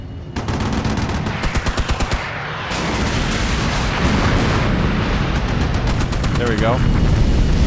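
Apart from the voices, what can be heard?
napalm and cluster bomb explosions in Armored Brigade 2 video game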